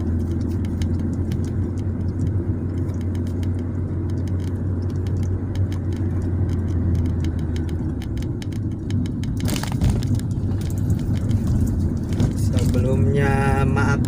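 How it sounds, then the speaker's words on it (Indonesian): Inside a moving car, a steady low engine and road rumble runs throughout, with small rattles and brief clatter near the end as faint voices and a child's sounds come through. "lagi ngendarain mobil."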